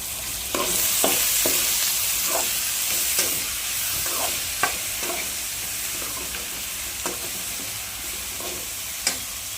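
Onion, tomato and ground green masala sizzle steadily in a pan while a spoon stirs, leaving sharp scraping clicks at irregular intervals over a soft hiss, close by and with no talk.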